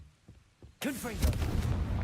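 A Confringo spell blast goes off in Hogwarts Legacy, a sudden loud booming burst that rumbles on for over a second after a short stretch of quiet and soft speech.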